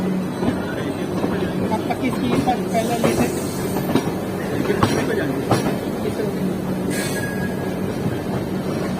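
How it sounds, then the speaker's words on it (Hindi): Double-decker express train picking up speed on the rails, running in parallel with another express near a junction, with a steady rolling rumble and rhythmic clicking throughout, heard from inside the carriage. "और देखिए हमारी डबल डेकर ने स्पीड पकड़ना शुरू कर दिया है।"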